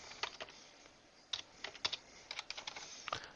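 Typing on a computer keyboard while editing a WordPress post, irregular bursts of light key clicks and taps, close and quiet, with no voices.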